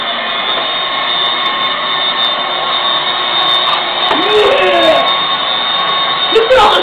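A Dirt Devil vacuum cleaner runs with a steady high whine and motor hum, loud and close, while people talk over it.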